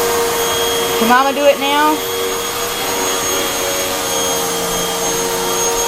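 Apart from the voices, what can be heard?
toddler running a vacuum cleaner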